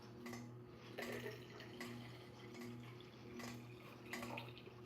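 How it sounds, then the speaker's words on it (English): Liquid being poured into a cup in a quiet home, a soft trickling stream with faint splashes under a low steady hum. "You just pour a little more in the cup."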